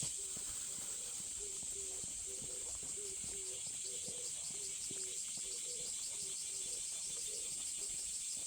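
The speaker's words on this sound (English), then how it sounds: "The cicadas are really loud here." Cicadas in a Japanese bamboo forest buzz in a loud, continuous high-pitched drone, with faint lower chirping calls repeating beneath it.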